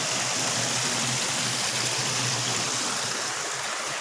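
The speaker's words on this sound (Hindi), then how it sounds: "और इधर से पानी आ रहा है सब।" Water rushing steadily in a stream below a village waterfall in Mirzapur, a constant broad hiss with a faint low hum beneath.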